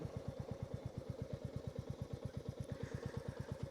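A 2023 Royal Enfield Meteor 350 motorcycle idles up close, its engine thumping in a quick, even, steady beat that holds with no change in pace.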